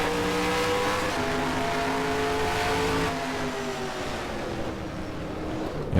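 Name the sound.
race car engine at full throttle, NASCAR Racing 2003 video game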